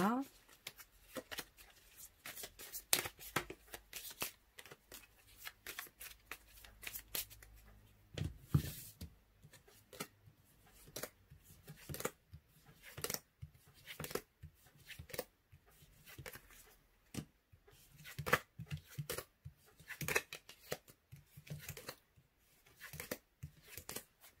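Tarot cards are shuffled and handled for a reading, with repeated crisp shuffling and tapping bursts in an irregular rhythm and a voice talking in between.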